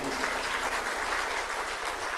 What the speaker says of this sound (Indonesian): Tepuk tangan untuk beliau sekali lagi